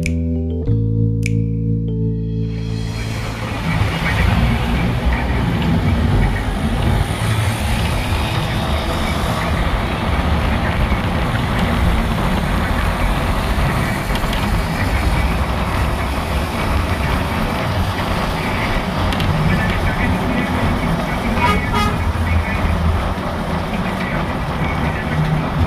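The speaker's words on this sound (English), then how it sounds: "This is the traffic situation at this section of our trip." Road traffic rumbles around a bus on a Lagos BRT route across Victoria Island, a continuous loud engine and road drone beginning after a brief tonal sound at the start, with no clear horns standing out.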